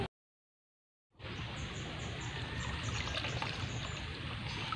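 Natural spring water is collected at a farm, trickling and splashing in a steady stream that starts after a moment of silence and continues alone and close, with faint birdsong in the background.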